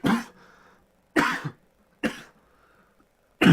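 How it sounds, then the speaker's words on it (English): Four separate harsh coughs from one person, close by, spaced about a second apart with quiet breaths between them. "Now I'm coughing."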